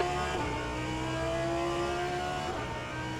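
Race car engines in a racing video game, a GT endurance round at Bahrain, whine steadily at high revs, with pitch shifts as cars pass by, loud and continuous with no talking.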